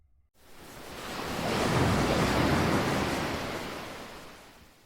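Sea waves surge and wash under a cool wind near a pine-lined shore at night, a broad steady roar that swells to a peak mid-clip and slowly eases, with no voices.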